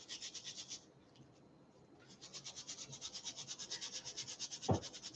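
Close, soft rhythmic scrubbing strokes as carrots are roughly scrubbed, pausing briefly before resuming in a steady brisk pattern, with no talking.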